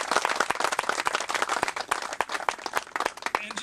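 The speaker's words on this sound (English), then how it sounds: "Round of applause, please." Applause from a small crowd at an outdoor groundbreaking ceremony for a youth soccer club field, with sharp individual claps standing out over a steady patter for a few seconds.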